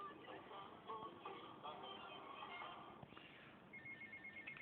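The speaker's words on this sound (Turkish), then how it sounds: "Ya şimdi mi telefon çalar?" A phone rings in an electronic tone during a GTA Vice City game session, repeating a clear melodic pattern over quiet background sounds, then a higher steady beeping near the end.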